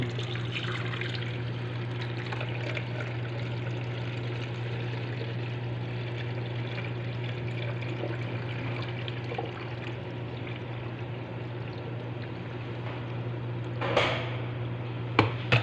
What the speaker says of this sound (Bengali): এই গ্যাপ দিয়ে পানিটা ছেড়ে দেব